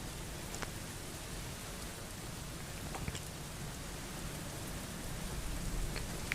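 Steady rain falling through a thunderstorm, a continuous broadband wash of drops on surfaces with a few sharper drip ticks, fairly quiet and even throughout with no voices.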